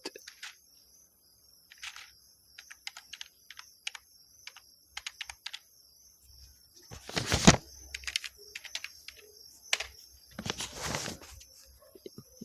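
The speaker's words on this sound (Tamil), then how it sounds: "இந்த இடத்துல பைத்தான்னு டைப் பண்ணி ஸ்பேஸ் விட்டு என்னோடய ஃபைல் நேம் அடிக்க போகிறேன்" A computer keyboard clicks as a Python command and a file name are typed, with quick bursts of keystrokes, pauses between them and a few louder taps, set over a faint steady high whine.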